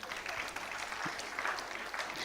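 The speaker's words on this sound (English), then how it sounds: "Keep the applause flowing." Steady applause from a crowd at a university convocation ceremony in Mumbai, a dense patter of clapping that continues without a break.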